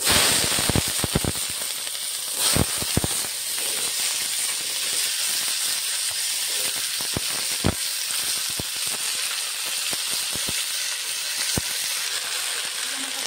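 Chopped beans and peas with other vegetables hit hot mustard oil seasoned with whole cumin, giving a loud, steady sizzle and hiss dotted with sharp crackles and spatters, with no talk over it.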